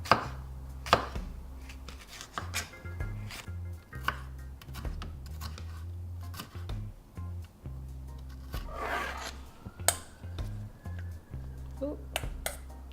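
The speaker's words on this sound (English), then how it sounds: "just start dicing in really, really small sections." A knife dices a deseeded vegetable into very small pieces on a cutting board, a steady run of close, sharp chopping taps with a low hum underneath and a few brief pauses.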